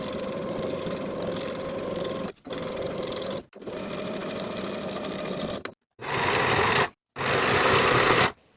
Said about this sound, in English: Sew the side seams and the shoulder seams with a 1/2 inch seam allowance